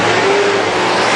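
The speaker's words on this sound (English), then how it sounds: "a whole host of cars about to go a lap down" Loud, close roar of WISSOTA Super Stock race cars at full throttle on the Granite City Speedway track, a dense sustained engine blare with no voices over it.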